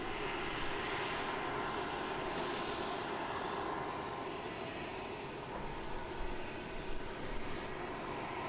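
An ATR turboprop airliner at Christchurch Airport, New Zealand, at sunset, heard as a steady, fairly distant engine drone that holds for the whole stretch with little change.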